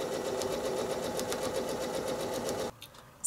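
A sewing machine stitching a pinwheel quilt block, a steady fast mechanical whir and rapid needle chatter close by that stops abruptly near the end.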